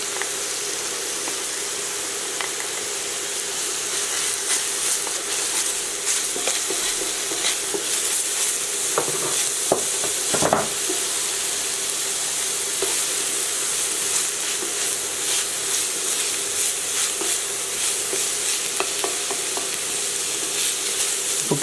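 Onions for Portuguese-style gizzards sizzling in a pan, frying until translucent, with a steady bright hiss and occasional scraping of stirring throughout, close and continuous.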